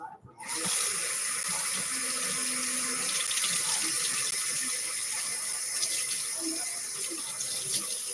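Hot water runs steadily from a kitchen sink tap while a cheeseburger tater tot bake is being prepared, a continuous broadband splashing rush that starts abruptly and holds at close range for several seconds.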